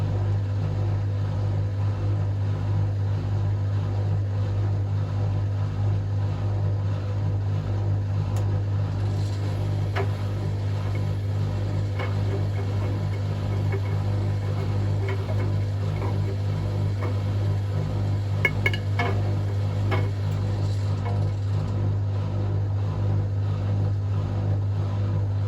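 A Hotpoint Aquarius WMA37 washing machine runs through a test wash with a steady low motor hum and faint clicks and knocks, its brushes sounding somewhat rough, with no voices.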